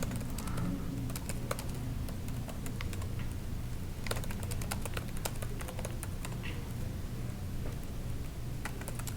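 Computer keyboard typing during CRM marketing software training, with quick irregular clicks and bursts of keystrokes continuing throughout over a low steady hum.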